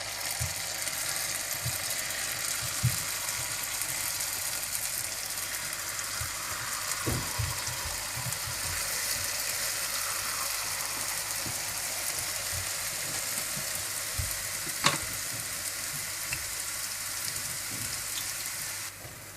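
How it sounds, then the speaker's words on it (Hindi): Jalebi batter fries in hot ghee on medium heat, a steady dense sizzle and crackle like rain, close and even throughout with a few small pops. "अब आप घी में इसको गोल गोल जलेबी की शक्ल में ऐसे बना दें"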